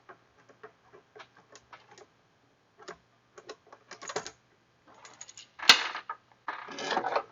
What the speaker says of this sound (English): I want to remove this whole clamp so we can see it.